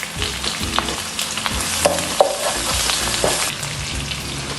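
Half a teaspoon of ginger garlic paste frying in a pan for chicken pulao, a loud, close crackling sizzle with scattered spatula scrapes and clicks, no voices.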